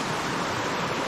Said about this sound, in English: I can't believe how much water is coming down the creek